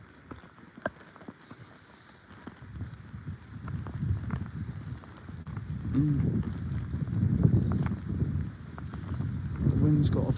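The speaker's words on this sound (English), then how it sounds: "The wind's got up a bit." Gusty wind buffets a microphone outdoors at a tramway village, a low rumbling roar that swells and fades over several seconds, with faint background activity beneath it.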